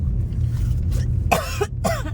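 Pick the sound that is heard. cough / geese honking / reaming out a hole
cough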